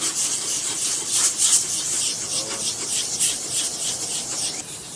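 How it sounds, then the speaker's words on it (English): Sandpaper rubs back and forth across a hard plastic headlight lens in quick, repeated rasping strokes, close and fairly loud, with no voices. "begin to sand the lens to remove the damaged surface"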